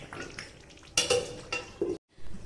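Tomato thokku pickle cooks in a covered pan, giving a low, steady frying sizzle with intermittent louder scraping and stirring bursts. The sound cuts to silence briefly near the end before resuming; no one speaks.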